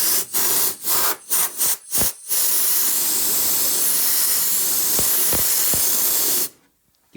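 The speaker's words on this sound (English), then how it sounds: "give it a quick blast like that while it's wet, and it forces it into the seams" An air blower forces wet primer into the seams of the wheel arch on an MGB GT during restoration. A few short puffs of air come first, then a long, steady, close hiss that cuts off abruptly.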